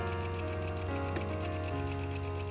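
A sewing machine stitches a buttonhole on a 1950s blouse, its needle running in a fast, even, close-up whir with no pauses.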